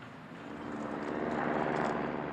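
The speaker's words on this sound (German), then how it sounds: "Jetzt findet der Helikopter tatsächlich eine Lücke und transportiert das Wegebauteam samt Material ins Einsatzgebiet." A helicopter flying over the high Alpine mountains, ferrying a trail-building crew and materials; a faint, distant engine drone that swells slightly as it approaches.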